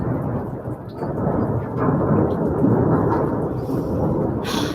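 A long, deep rumble of thunder rolls on for several seconds, loud and low, swelling in the middle with rain hissing faintly underneath.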